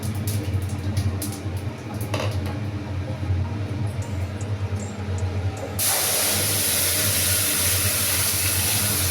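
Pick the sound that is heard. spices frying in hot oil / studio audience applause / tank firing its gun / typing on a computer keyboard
spices frying in hot oil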